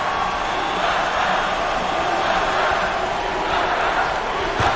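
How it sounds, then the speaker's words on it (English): A basketball arena crowd in the video game NCAA Basketball 20, a Northwestern Wildcats vs Illinois Fighting Illini game, roars in a steady dense wash of cheering and shouting that swells slightly toward the end, with faint court sounds beneath. "The crowd is completely behind their team."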